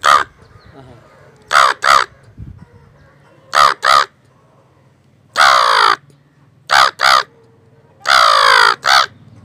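Crows caw loudly and close by in short paired and single bursts, repeated several times, with quieter background sounds between calls.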